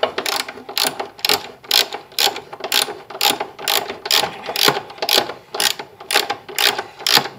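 A hand ratchet tightens a rear shock bolt on a Pontiac G6, giving a close, steady series of sharp clicking bursts in an even back-and-forth rhythm.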